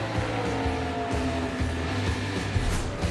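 ARCA Menards Series stock cars roar past at Kansas Speedway in the Tide 150, a steady loud engine drone with pitch shifting as cars sweep by.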